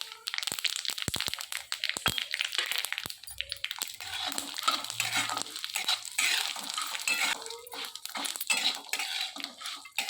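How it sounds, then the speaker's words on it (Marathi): Masala with peanuts, sesame and poppy seeds dry-roasting in a pan: continuous scraping and rattling of a spatula and seeds against metal, brisk and close, with crisp clinks throughout; no talk. "हा मसाला अशा पद्धतीने चांगला भाजून घेऊन थंड होण्यासाठी ठेवायचा आहे"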